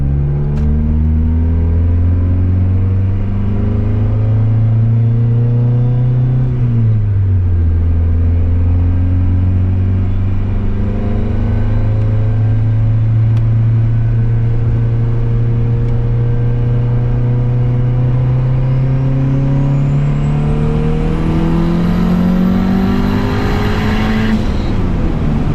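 Turbocharged Honda Civic engine running loud and close at high boost, its drone holding steady, dipping briefly, then climbing in pitch as revs rise, with a rising turbo whine toward the end.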